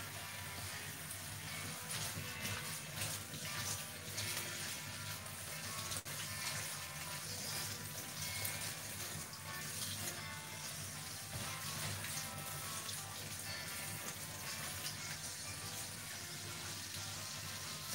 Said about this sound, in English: You can see I'm running that in cold water.